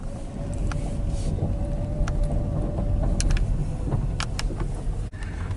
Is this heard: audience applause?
no